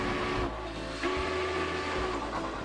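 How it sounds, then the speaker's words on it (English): A steam train whistle in the railway simulation game Chris Sawyer's Locomotion sounds as a harsh, sustained tone with a brief break, over background game hiss and rumble. "God, that awful whistle."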